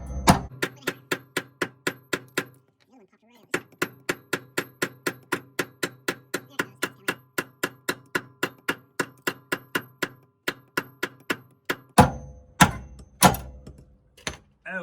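A stud on the rear subframe of a Porsche Boxster 986/987 is hammered out with rapid, evenly spaced metallic blows. A run of strikes is followed by a short pause, then another long run, and a few heavier clanks close it out.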